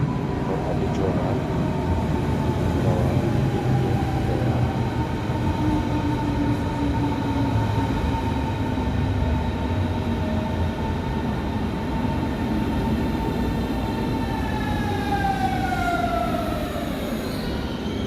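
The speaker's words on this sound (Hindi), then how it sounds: "और ये रही मेरी ट्रेन आ गई" A train pulling into a station in Germany: a loud, steady rumble of wheels on rails with high, ringing brake squeals that slide downward near the end, close by.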